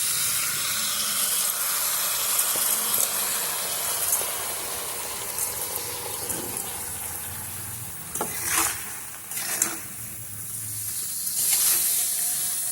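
Washed rice and lentils go into a pan of frying winter vegetables for Bengali khichdi, giving a steady loud hiss and sizzle with a few bursts of louder spitting partway through.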